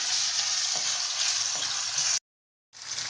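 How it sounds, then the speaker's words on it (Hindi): Cumin seeds and garlic-ginger paste fry in hot oil for dhaba-style rajma, making a loud continuous hissing sizzle with faint stirring taps, which cuts out briefly before resuming. "अब इसमें हम डाल देंगे जीरा और लहसुन अदरक का पेस्ट। इसको थोड़ी देर भूनेंगे।"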